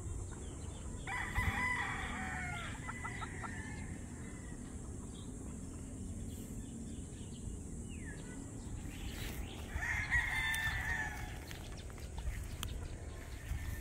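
On a farm, a rooster crows twice, moderately near, over a steady outdoor background with faint clucking of chickens and insect buzz.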